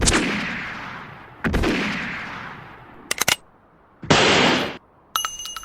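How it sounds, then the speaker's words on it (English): Pistol shots ring out in an audio drama, two booming reports each with a long tail, followed by a quick rattle of sharp cracks, a harsh burst and a final clattering hit, with no voices. "Great shot, Doc! I think that was the last of them"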